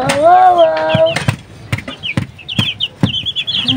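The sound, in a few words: chicken clucking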